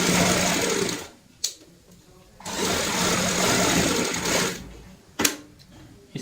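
A sewing machine stitches fabric pieces of a baby girl's cap in bursts, with long whirring runs broken by short pauses and a few sharp clicks between them.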